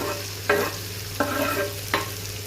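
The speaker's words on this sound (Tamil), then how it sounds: "இப்போ அதே பேனில் கொஞ்சமாக பச்சை மிளகாய், கொஞ்சம் வெங்காயம் எடுத்து போட்டுக்கோங்க." Green chillies and onion hit a hot pan with three sharp bursts of sizzling and stirring over a steady frying hiss, close and without talk.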